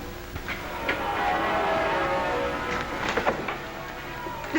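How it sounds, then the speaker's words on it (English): Church bells pealing in celebration, several bright strikes ringing out over a faint rumbling background, heard at a moderate distance. "Listen to our wedding bells."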